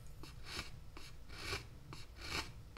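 A file rasps along the beveled edge of a new violin top during edge carving, four steady rubbing strokes spaced about a second apart, close and moderately quiet with no talking.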